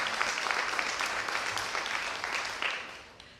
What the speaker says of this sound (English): Let's give the Carol Robeson team a round of applause